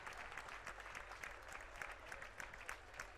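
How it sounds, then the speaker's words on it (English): Spectators at a college men's basketball game applaud an injured player, a sustained, moderately distant ovation of many clapping hands with a steady rhythmic texture, heard faintly and without talk. "Schultz is getting a nice ovation from the crowd"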